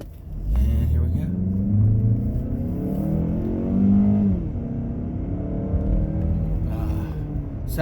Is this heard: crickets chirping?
no